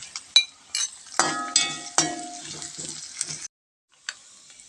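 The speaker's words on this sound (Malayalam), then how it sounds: "വേപ്പിൻ്റെ ഇല ഇടുന്നു കേട്ടോ" Day-old curry leaves dropped into hot oil for yam pickle along with ginger, crackling in loud bursts with clinks of a spoon against the pan, then a short silence and one last pop.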